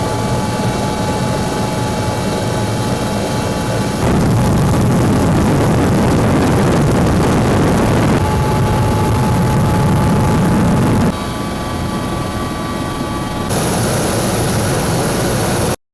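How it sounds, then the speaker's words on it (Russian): Mi-24 attack helicopter starting up and flying: a loud, continuous engine and rotor roar with a steady whine, shifting in intensity over the clip, heard alone without voices. "была дана команда запуска боевой машины вертолета Ми-24."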